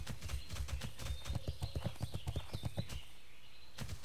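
A talbuk mount in World of Warcraft gallops, its rapid hoofbeats clattering in a quick, steady rhythm, close and clear, with a faint tonal ambience behind them.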